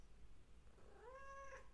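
A hungry cat gives a single rising-and-falling meow near the end, faint and fairly distant against a quiet low room hum, with no talking.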